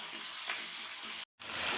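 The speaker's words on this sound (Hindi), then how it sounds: "प्याज और अदरक लहसुन का पेस्ट फ्राई हो चुका है, अब इसमें हम टमाटर डाल देंगे।" Onion and ginger-garlic paste sizzle steadily in a hot pan, a continuous bright frying hiss that cuts out briefly for a moment before returning, with no voices.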